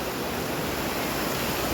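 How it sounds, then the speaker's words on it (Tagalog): Sea waves at a beach resort in Lian, Batangas, heard as a continuous, fairly loud wash of surf noise with no distinct breaks and no voices. "Maganda po yung alon ng dagat"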